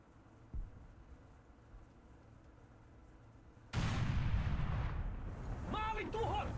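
A tank cannon fires in War Thunder, a sudden loud blast that rolls into a long booming tail, preceded by a faint thump and quiet engine drone, with a voice speaking toward the end.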